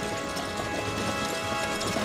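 Horses gallop in The Crystal Bearers video game, a dense, steady rush of hoofbeats at moderate loudness filling the whole two seconds, with no talk over it.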